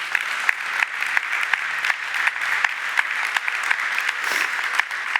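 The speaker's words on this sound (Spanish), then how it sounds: "Un aplauso a Cristo Jesús." A church congregation applauds during a Spanish-language sermon, with loud sustained clapping marked by sharp individual claps standing out of the crowd noise.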